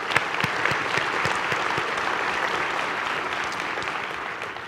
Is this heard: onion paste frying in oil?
no